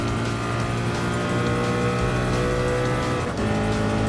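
A Gr.1 race car in Gran Turismo Sport at Circuit de la Sarthe, engine holding a loud, steady high-revving drone with strong layered harmonics that briefly shifts near the end, loud and continuous with no voices.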